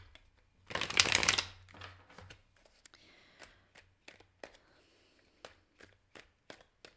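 A deck of tarot-style cards is shuffled up close, opening with a louder riffling burst, then quieter scattered flicks and taps as individual cards are handled, with no speech.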